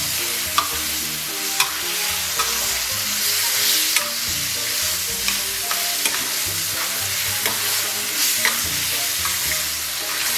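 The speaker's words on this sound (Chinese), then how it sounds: "咱们再给它反复煸炒" Tomatoes sizzle in a wok with chili paste, sweet bean sauce and soybean paste while being stir-fried, a steady close frying hiss broken by frequent scraping clicks of the spatula, with no voices.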